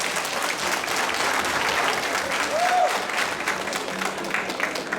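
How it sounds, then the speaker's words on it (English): Audience at a Jieng cultural day gathering in Calgary claps and applauds steadily, a dense wash of many hands continuing throughout at moderate level. "let's clap and applaud for that milestone"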